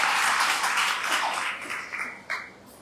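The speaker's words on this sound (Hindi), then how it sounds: "इससे पहले गुरु जी के लिए ताली बजा दो" An audience applauds for their guru during an evening kirtan gathering in South India, a broad wash of clapping that is loud at first and gradually thins out, with a few scattered claps near the end.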